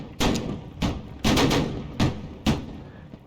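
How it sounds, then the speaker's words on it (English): Cannon fire from a Borodino war game: five sharp, loud booms spaced roughly half a second apart, each with a short decaying rumble. "We'll use the cannon this time."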